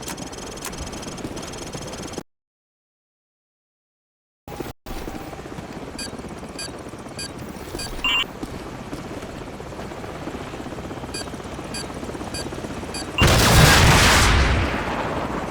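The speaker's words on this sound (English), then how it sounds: "So, grab a Stinger and take out that chopper." Helicopter from the Call of Duty 4: Modern Warfare level Hunted, its steady rotor drone running throughout with brief dropouts early on, a short high whine, and a loud hissing burst near the end.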